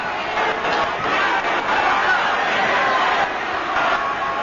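A big boxing arena crowd roars and yells continuously during a junior welterweight title fight, a dense, steady wall of voices urging on a knockout.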